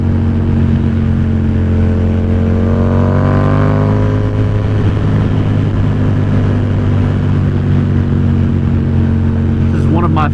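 Yamaha XSR700 motorcycle fitted with a Two Brothers SR1 exhaust, ridden along Tennessee farm roads, giving a loud, steady engine drone that rises in pitch as it accelerates, heard close with constant wind rush.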